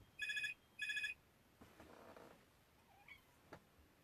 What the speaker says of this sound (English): that's the telephone ringing